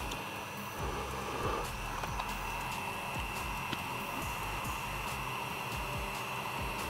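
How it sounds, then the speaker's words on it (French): A small ventilation fan runs inside an airsoft mask, giving a steady close whirring hiss with faint clicks and taps scattered through it, unchanging in level throughout. "on voit que le ventilo fait bien son travail. Donc là je vais réitérer pendant la ventilation."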